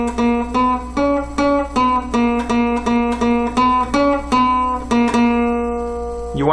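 Ode to Joy fingerpicked on two strings of a guitar, a steady run of clear plucked notes at an even walking pace, close and bright, ending with a brief strum.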